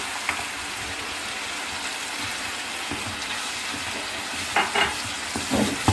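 Constant close sizzle and frying hiss from a hot pan as tomato puree goes into chicken jalfrezi, with a few stirring scrapes near the end.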